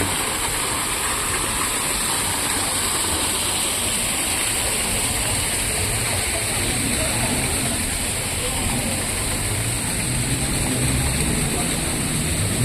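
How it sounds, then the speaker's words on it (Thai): A waterfall at Wat Pho temple rushes in a dense, steady roar that fills the whole clip, loud and close, with a voice faintly beneath it. "อันนี้ก็คือน้ำตกครับพี่น้อง"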